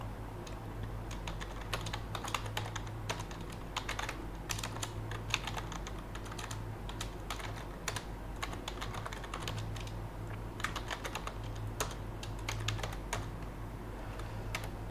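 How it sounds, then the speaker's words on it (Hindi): Code is typed on a computer keyboard in a rapid, uneven stream of soft key clicks and taps, close and steady throughout under a low background hum, with no talk. "तो इधर मैं अपनी न्यू एक्टिविटी स्टार्ट करने का कोड लिख लेता हूँ।"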